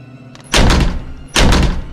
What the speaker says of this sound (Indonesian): Suara ketukan keras terdengar dari dalam bak truk